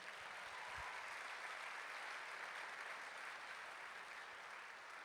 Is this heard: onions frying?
no